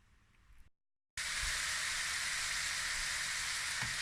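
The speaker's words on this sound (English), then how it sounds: "now we just brown the meat with some onions, the garlic" Ground beef browns in a pan with onions and garlic, making a steady, broad sizzle. A short quiet stretch and a brief silence come first, then the frying sound runs loud and continuous with occasional low knocks and no voices.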